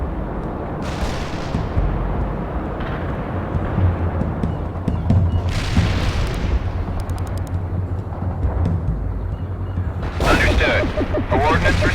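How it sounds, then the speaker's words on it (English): Artillery fire in the Cold War strategy game World in Conflict: a steady, dense rumble of battle with several sharp bursts and crackling blasts, loud throughout, as a radio voice speaks. "Coordinates received. Artillery firing."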